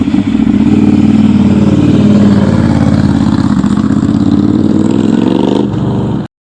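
A Ducati Monster motorcycle engine revs hard and close, a deep, continuous, loud roar with rising and falling throttle pitch that holds steady before cutting off sharply near the end.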